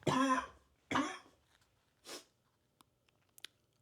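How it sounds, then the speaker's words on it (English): Two sharp, loud coughs close up, followed by a softer throat-clearing rasp and a few small clicks in a quiet room. "Excuse me while I cough up a lung."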